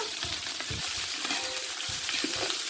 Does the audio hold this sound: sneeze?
no